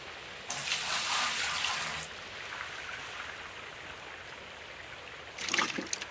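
Gushing water in Gold Mining Simulator, loud splashing bursts at the start and end around a quieter steady trickle, close and alone without voices.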